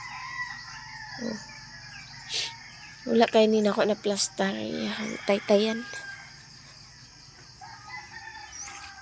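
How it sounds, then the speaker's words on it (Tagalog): A fighting rooster crows at a farmyard home with crickets and other fowl, its call rising in short bursts that stand out against a steady insect drone, while people talk nearby. "Sabong manok."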